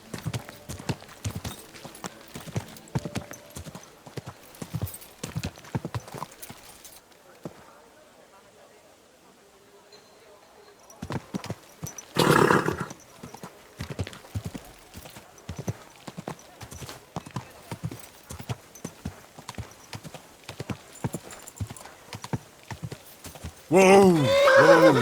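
Horse hooves clip-clop in a steady rhythm through Kingdom Come Deliverance 2, pausing briefly before resuming. A horse neighs loudly near the end, and someone speaks over parts of it.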